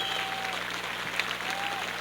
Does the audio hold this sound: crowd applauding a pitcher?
yes